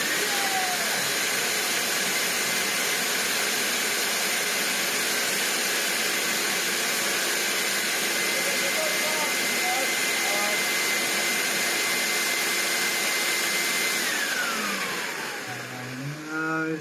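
A Vax New Wave HF1400 vacuum cleaner with a new, arcing motor runs at a steady loud high-pitched whine, then winds down and sputters near the end.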